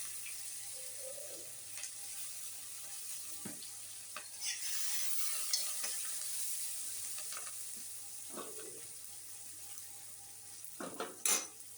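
Garlic, asafoetida and green chillies sizzle in hot oil in a pan for a dill-leaf bhaji, with a steady frying hiss. Occasional utensil clinks and scrapes come through, then a louder clatter near the end.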